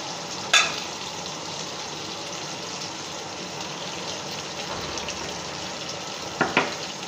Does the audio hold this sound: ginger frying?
yes